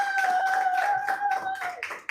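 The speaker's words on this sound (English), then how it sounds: "So please give Camerajoint a round of applause." Audience clapping for an invited creator, close and fairly loud, with a steady patter of hand claps over a constant tonal hum, fading slightly at the end.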